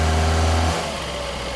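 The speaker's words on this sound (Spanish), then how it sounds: "como detonación o preignición, como algo así suena" A car engine under acceleration with a suspected knocking or pre-ignition fault, running loud and steady with a strong low hum that drops abruptly partway through and settles into a quieter rough idle.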